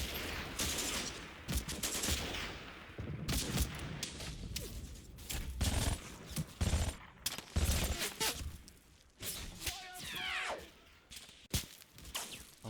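Machine gun fire in the Combat Mission wargame, set in Italy: irregular bursts of sharp, moderately distant shots crackle throughout, with brief pauses and thuds between volleys.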